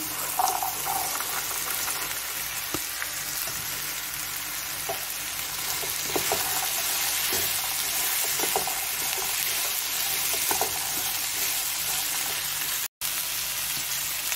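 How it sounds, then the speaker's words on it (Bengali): Chickpeas go into frying masala of ginger, tomato and chilli paste, giving a continuous hissing sizzle with scattered scrapes and clicks of stirring across several seconds, then a brief silent gap near the end. "ছোলাটা দিয়ে দিচ্ছি"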